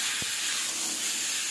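Washed raw mango pieces drop into hot mustard oil tempered with bay leaf, panch phoron and dried red chilli, starting with a soft thump and then a loud, steady hissing sizzle.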